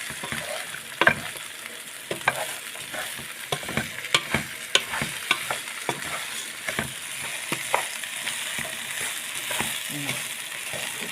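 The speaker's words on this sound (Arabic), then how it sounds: "نخلط مع بعض" A spoon stirs lentils, vermicelli and rice together in one pot for Egyptian koshari, scraping in steady close strokes over a soft, continuous sizzle.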